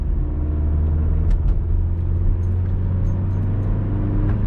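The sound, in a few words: Vauxhall Corsa engine with Halfords performance air filter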